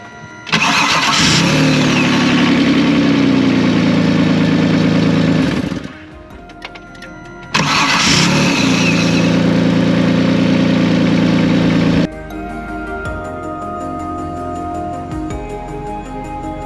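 A 2003 Saturn VUE 3.0 AWD engine cranks and catches after a starter replacement, revving loudly, cutting out briefly, then restarting and settling into a steady rumbling idle, close by.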